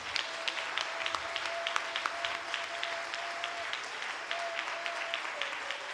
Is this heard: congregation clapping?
yes